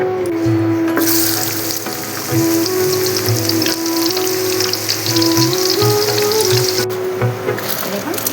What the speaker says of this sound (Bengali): একটা পেঁয়াজ নিয়েছি মিডিয়াম সাইজের, ঝিঝি করে কেটে নিয়েছি, এখন এটা আমি হালকা ভেজে নেব।